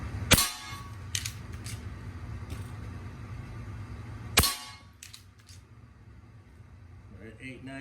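Two sharp, loud shots from a Hatsan Vectis .22 air rifle ring out about four seconds apart, each with a crisp crack and brief ring, over a low background hum.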